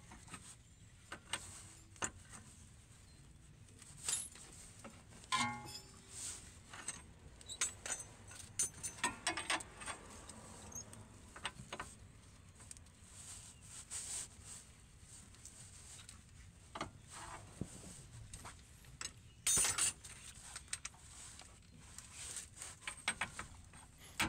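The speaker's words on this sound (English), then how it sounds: "So I'm using the breaker bar with the 22 millimeter socket to break them loose." A breaker bar fitted with a 22 mm socket loosens bolts on a 1997–2001 Nissan Altima's lower control arm, giving scattered close metallic clinks, clicks and rattles with quiet gaps between them and no talking.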